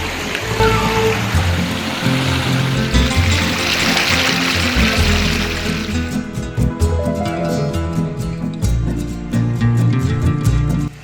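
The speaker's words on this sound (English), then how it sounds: "see how that water's just bubbling over there?" Water bubbles and rushes steadily nearby on the Cascade Falls Trail, FDR State Park, Georgia, a continuous burbling stream with no voices.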